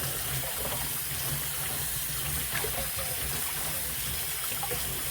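Running tap water splashes into a sink as fish is washed for fish soup, a steady close gushing flow with light sloshing throughout.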